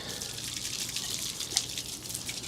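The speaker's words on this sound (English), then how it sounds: "So I really just hose it off." Garden hose spraying water onto a bicycle chain, a steady broadband hiss of spray running continuously, close and even, with a brief sharper splash midway and no talking.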